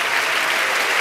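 A comedy-show audience claps loudly and continuously, a dense, even wash of applause filling the whole moment.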